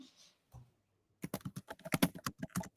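A burst of quick computer keyboard typing, about a dozen close, crisp key clicks in an uneven rhythm following a couple of soft isolated taps.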